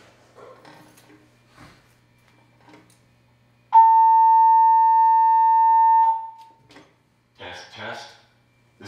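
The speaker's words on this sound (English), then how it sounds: "This completes our test of the fire alarm system." Siemens fire alarm system test signal: a loud, steady electronic tone holds for about two seconds, with people talking before and after it.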